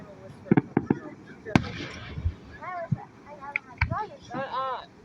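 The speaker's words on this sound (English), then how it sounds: "Those fireworks are usually long" Fireworks burst in Niles as a cluster of sharp, distant pops and bangs, some quick in succession, heard faintly beneath people talking nearby.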